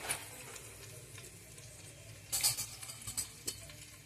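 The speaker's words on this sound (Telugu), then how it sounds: "చూడండి ఆయిల్ వేడెక్కుతుంది. గరం మసాలా దినుసులు కొంచెం కొంచెం వేసుకున్నానండి." Whole garam masala spices (cinnamon, cloves, cardamom) frying in heated oil in a large home pulao pot, a faint steady sizzle with a few soft clinks and stirring scrapes near the end.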